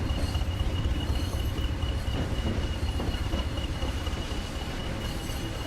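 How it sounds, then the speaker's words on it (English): A train rumbles steadily along the rails, loud and close, with a constant low roar, faint high squeal, and rhythmic rattling throughout. "Make sure our train following along in an orderly fashion, as they do."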